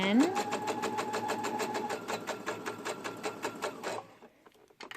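A home sewing machine runs a back stitch on a sunshine dress, giving a rapid, steady mechanical needle patter for about four seconds before stopping, with a short whirring tail.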